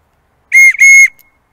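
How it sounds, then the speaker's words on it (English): A Bakelite whistle with a modern ring, part of a military collection, gives two short, shrill blasts up close, the second slightly longer, with a brief gap between them and no talking. "Here we have a Bakelite whistle with a modern ring on there."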